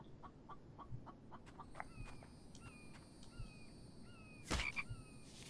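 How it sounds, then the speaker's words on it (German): A chicken clucks in the video game Infected, short repeated clucks and cackles standing alone against a quiet game ambience, with a sharp burst near the end. "Wieso gackert es noch?"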